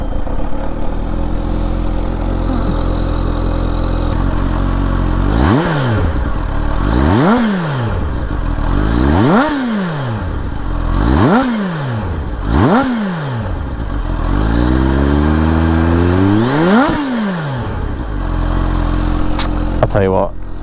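Supercharged 2022 Kawasaki ZH2 engine running loud and close: a steady idle, then a series of sharp throttle blips rising and falling, ending in a longer, drawn-out rev.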